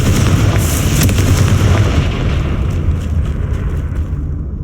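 A Confringo blasting spell going off in the video game Hogwarts Legacy, a loud, sustained booming explosion with a rumbling roar that slowly fades over several seconds.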